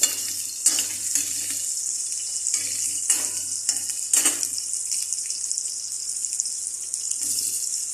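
Garlic and onion sauté in a pan for Filipino ginisang pechay with bisugo, a steady bright sizzle close by that holds throughout, broken by a few soft knocks of stirring.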